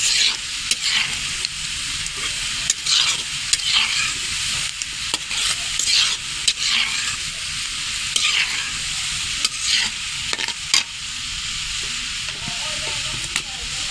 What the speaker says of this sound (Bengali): রসুনটা একটু হালকা ভাজা করব